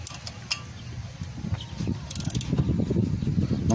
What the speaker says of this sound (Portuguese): depois de colocar o parafuso, vamos apertar esse aqui.